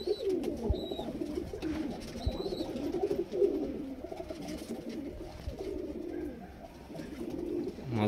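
Pigeons, high flyer and low flyer birds, coo softly and continuously in low throaty rolls nearby, with a few faint chirps from smaller birds in the background.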